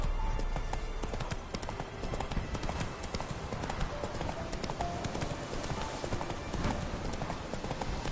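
Horse hooves gallop in a steady, rapid clip-clop rhythm throughout, riding in The Witcher 3 video game, with faint game ambience around the hoofbeats and no talk over them.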